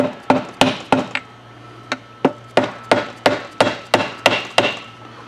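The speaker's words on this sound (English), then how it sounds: "I'm going to tap the outside cover." Around a dozen sharp taps strike the outside engine cover of a Polaris Ranger 500, in irregular bursts with short gaps, each a crisp close knock with a brief ring over a low steady hum.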